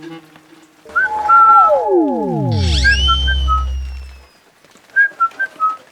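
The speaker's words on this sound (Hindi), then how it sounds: "जो कुत्तों के लिए सीटी मार रहे हैं" A person whistles to call dogs with short, bright chirping notes, first a brief run, then a long swooping falling tone, and finally a quick series of clipped whistles.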